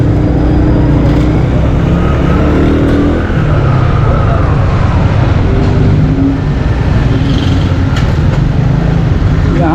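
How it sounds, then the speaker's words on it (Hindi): Dense traffic jam on Abdullah Haroon Road near the mobile market in Saddar, Karachi, heard from a motorcycle: a steady, loud mix of car and bus engines, revving and passing vehicles, continuous throughout with no clear talk. "यहाँ तो ट्रैफिक जाम लग रहा है मेरे को"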